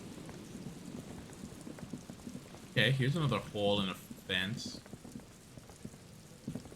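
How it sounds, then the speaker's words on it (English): Steady rain falls in the video game Disco Elysium, a soft continuous patter throughout, while someone talks over it for a few seconds in the middle. "It's getting rained on."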